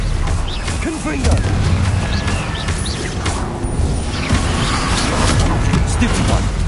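Repeated spell blasts and explosions from the Hogwarts Legacy video game crack through a busy, dense mix of combat effects, with a person's voice calling out over the bursts.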